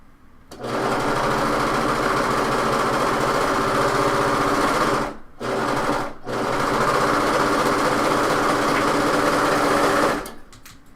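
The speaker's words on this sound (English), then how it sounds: "just do a quick serge seam" Serger sewing machine stitching a seam on a top, a steady loud mechanical whir running continuously for about ten seconds with two brief pauses midway.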